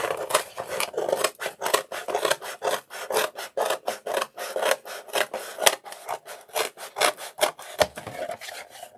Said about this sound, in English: If you get your scissors, we'll cut along this line to begin with.